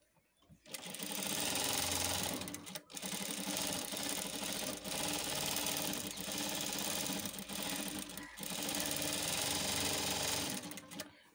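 A sewing machine runs steadily for about ten seconds, stitching thread piping onto a blouse, with a loud continuous mechanical whirr and a couple of brief pauses.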